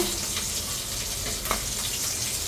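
Eggplant and green chilies frying in hot oil, giving a loud, continuous, dense sizzle that carries on evenly from start to finish, with no one talking.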